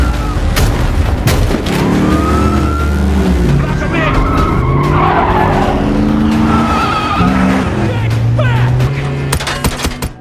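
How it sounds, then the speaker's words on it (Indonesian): A loud, continuous rush of car engines with skidding tyres squealing and sharp bangs like gunfire, busy and chaotic from start to finish. "Dalam pengejaran ini, Mark terus menempel mobil ambulan itu sampai masuk ke dalam gedung pusat usaha konveksi"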